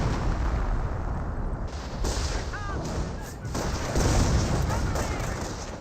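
Artillery barrage in the World War II strategy game Company of Heroes, a dense rumble of heavy booms and crackling blasts rolling continuously, with a voice talking over the battle.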